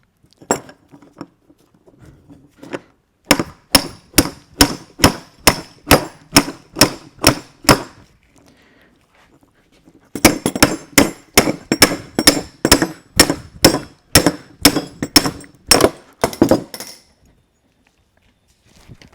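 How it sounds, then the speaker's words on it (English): Sharp metallic hammer strikes in two fast, steady bursts, each of about a dozen ringing blows, knocking a bushing out of a GM 4L80E transmission, with quiet pauses before, between and after. "we can probably just hammer it out right here"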